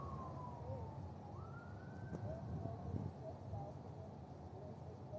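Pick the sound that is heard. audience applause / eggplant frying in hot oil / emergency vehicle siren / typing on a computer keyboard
emergency vehicle siren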